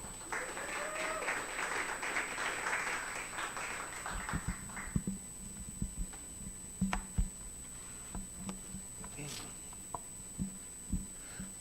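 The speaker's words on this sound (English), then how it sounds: "So give him a round of applause." Audience applause at a suicide and recovery awareness fundraiser, starting as a fairly loud sustained clapping crowd that thins after about four seconds into scattered individual claps and taps in a quiet hall.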